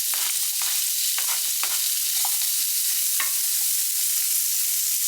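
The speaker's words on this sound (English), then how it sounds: "Now after a few minutes we can add in the onions." Onions fry in a pan with a steady bright hiss, scattered scrapes of stirring breaking through the constant sizzle, close up with no voices.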